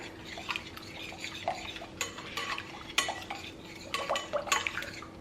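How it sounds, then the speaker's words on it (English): A sourdough mixture is stirred in a bowl before flour goes in, with irregular close scrapes and clinks of a utensil against the bowl and no speech. "I'm gonna give this a little bit of a stir just so it's not all one clump when I add my flour."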